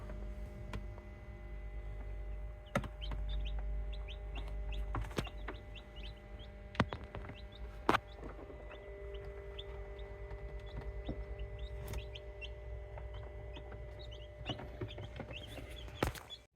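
Many newly hatched chicks peep steadily inside an incubator, a dense chorus of small high chirps with occasional louder peeps and a few sharp knocks, close and continuous with no talk.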